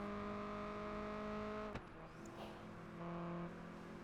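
A D-type race car in the PGR4 video game roars past; its steady engine tone drops sharply as it goes by, then a lower engine drone carries on.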